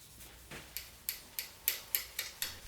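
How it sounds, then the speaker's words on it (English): Red lacquered mountain bike frame being buffed by hand with T-cut polish under light pressure, giving a steady run of soft, crisp rubbing strokes, about nine in quick rhythm, close and faint. "I used some T-cut and a light amount of pressure to buff up the lacquer to a nice shiny finish"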